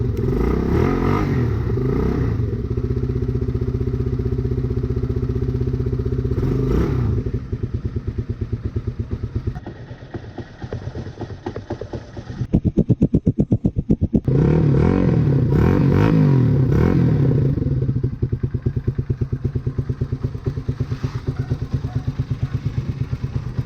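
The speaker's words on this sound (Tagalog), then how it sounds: "ready to start na tong CBR natin" A carbureted Honda CBR150 motorcycle engine starts up and idles with a steady low rumble, then revs and clatters before settling back into a loud, close running idle.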